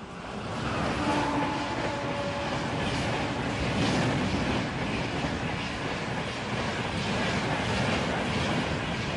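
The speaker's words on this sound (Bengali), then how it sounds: "1 নম্বর প্ল্যাটফর্মে ট্রেন দিয়ে দিয়েছে।" A passenger train runs at a platform, making a steady, loud broadband rumble with a faint clatter of wheels and a brief squeal, continuous for the whole stretch.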